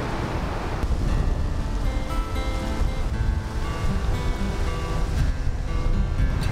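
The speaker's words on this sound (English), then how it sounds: "But man, come on, windy." Strong wind roars steadily across an open Kansas field during an afternoon deer hunt, a loud continuous rumble buffeting the microphone with no pauses.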